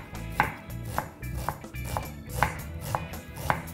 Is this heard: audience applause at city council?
no